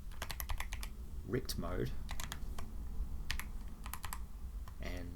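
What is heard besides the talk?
typing code on a computer keyboard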